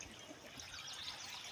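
Water runs in a steady rushing trickle while gold prospecting gear is cleaned out between buckets of gravel, a continuous close hiss and splash with no talking.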